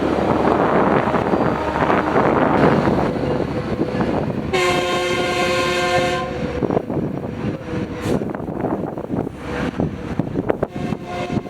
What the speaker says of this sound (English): Our next train would be Metrolink 1858 heading to San Bernardino with F125 931 leading.